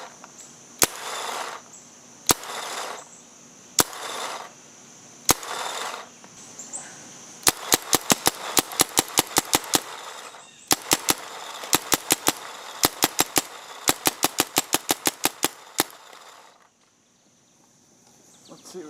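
An Invincible Power paintball marker fires on CO2, first a few widely spaced single shots, then rapid strings of sharp cracks in quick bursts, loud and close with a hissing whine between them.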